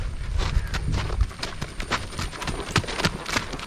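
A horse's hooves clip-clop in a steady, busy rhythm during riding training, fairly close and loud against a noisy outdoor background, with no clear talk.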